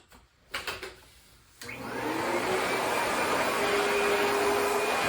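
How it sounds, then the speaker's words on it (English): A vacuum cleaner fitted with a soft bristle floor brush attachment switches on after a few brief clatters and bumps, then runs with a steady, loud whooshing roar. "So you basically attach it to your vacuum."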